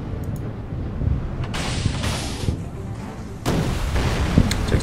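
Warships in the naval strategy game Order of Battle firing guns and launching torpedoes, low rumbling booms and muffled blasts in a dense battle ambience with a few sharper hits.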